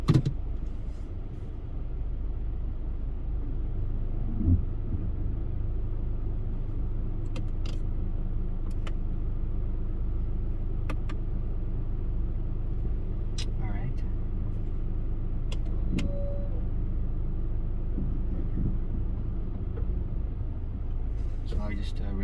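A 2018 Honda Civic E with a 1.8-liter gas engine, front-wheel drive and CVT pulls away, its steady low engine and road drone running continuously from inside the cabin with faint clicks and creaks.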